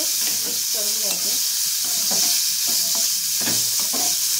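Crushed karvanda berries fry in a spice masala on low heat, giving a steady high sizzle broken by repeated scraping stir strokes, close and fairly loud with no voices.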